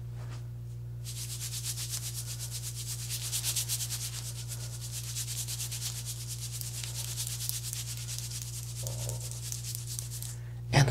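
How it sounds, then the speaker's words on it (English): Lettuce is rubbed over a person's head in a mock head massage, a close, soft, continuous crinkly rustling over a steady low electrical hum, with a brief faint voice near the end. "We will rub the lettuce all over the head."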